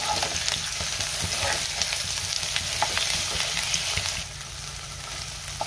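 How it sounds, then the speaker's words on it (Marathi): Brinjal pieces frying with ground masala in a pan, a steady, close, dense sizzle with scraping stirs throughout that drops to a softer hiss near the end, with no talking. "पुन्हा 3 ते 4 मिनिटं आपल्याला मसाल्यासोबत वांगी परतून घ्यायची आहे।"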